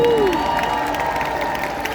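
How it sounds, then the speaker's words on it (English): A crowd claps and cheers briefly at a full-contact jousting show between knights, the applause steady and broad for a couple of seconds. "So a nice round of applause for Fiona again"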